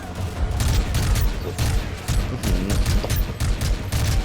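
Rapid, sustained automatic gunfire from Call of Duty: Modern Warfare 3 rattles loud and close in dense bursts with brief gaps, a remote-controlled vehicle-mounted machine gun in the game battle, with no voices over it.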